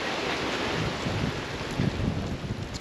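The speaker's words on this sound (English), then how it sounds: "hopefully it's not too windy through the GoPro there" Gusty hot wind buffets a GoPro microphone in the outback, a constant loud rumbling roar with low thumps and no talk.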